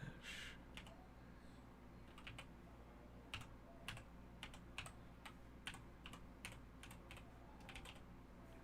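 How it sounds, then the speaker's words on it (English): A computer keyboard is typed on one-handed, producing irregular clusters of close, crisp key clicks over a steady low room hum, with no talking. "one-handed typing for the win."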